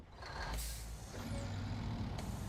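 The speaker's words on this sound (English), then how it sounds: "Yeah, the trucks are pretty loud." Trucks in a driving video game rumble loudly, with a hiss of air brakes and a faint reversing beep over steady engine drone, close and continuous, no talking.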